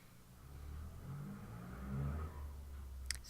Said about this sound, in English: Excuse the cars out in the driveway, you can hear it.